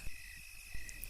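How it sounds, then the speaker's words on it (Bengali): Crickets chirp on a deserted road at night, a thin, steady, high-pitched trill that runs faintly and alone, with a couple of soft thumps. "আধার রাতে নির্জন এই পথে শুধু ঝোনাকি পোকার ঝিঝি শব্দ।"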